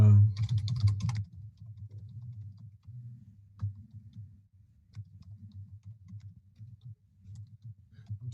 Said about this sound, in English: Just typing, I'm sorry.